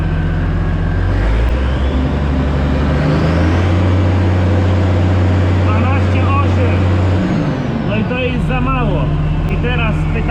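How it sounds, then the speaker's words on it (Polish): Vehicle engine revved with the throttle while its charging voltage is checked on a vehicle with a no-charging fault, a loud steady idle rising to a held higher pitch for several seconds, then dropping back, with talk over it. "Dajemy gazu."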